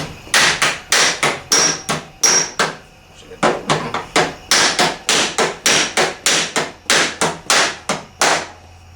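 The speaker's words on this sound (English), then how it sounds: "I'm just going to come in here with the small hammer" Steady hammering with a small hammer on a 1979 Trans Am, sharp blows landing in quick regular runs with brief pauses between bursts, close and loud.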